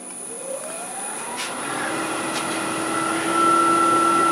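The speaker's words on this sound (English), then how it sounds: "That whining sound that you hear was, I still had my lathe in low range" A wood lathe running in low range gives a steady high whine that rises slowly in pitch and grows louder, alongside a broad mechanical hum, with no talk.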